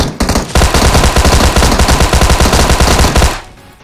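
Rapid automatic gunfire in the mobile battle royale game PUBG Mobile, loud sustained bursts of shots for about three seconds, close and dense, with no talk.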